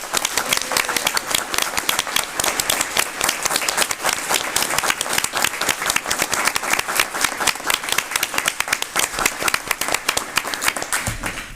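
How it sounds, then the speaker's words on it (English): An audience at a school board meeting claps for a student in a sustained, even round of applause lasting over ten seconds, with many hands clapping steadily at moderate distance. "if we could give a rousing round of applause to Mia Stitt."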